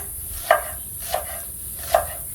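Unwashed purslane is chopped with a knife on a board, three separate sharp chops spaced about half a second to a second apart, close and clear with no talking.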